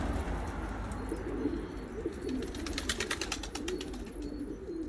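Pigeons coo in low, repeated rolling calls over a steady background hum, joined by some brighter chirps partway through.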